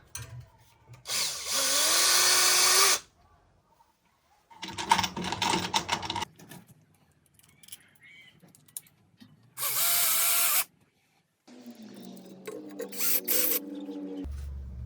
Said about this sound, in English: to screw each nut tightly, because I have to make sure that it's fitting in all 4 holes